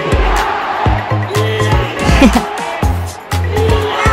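Live arena crowd at a basketball finals game between Ginebra and TNT in Araneta Coliseum, a loud continuous roar with rhythmic chanting and voices, close and dense throughout.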